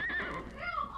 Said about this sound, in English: That horse.